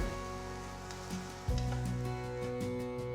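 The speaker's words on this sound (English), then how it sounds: "Keep the flame on medium and keep mixing it for about 5 minutes to make sure that the pieces are coated with the masala well" Bitter gourd pieces coated in garlic masala fry in a pan over a medium flame, a steady soft sizzle with occasional stirring scrapes and clinks, fairly close and alone.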